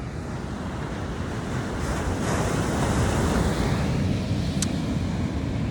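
Ocean surf on the Jersey Shore rolls in as a loud, continuous wash of waves mixed with heavy wind buffeting the microphone, with no talk.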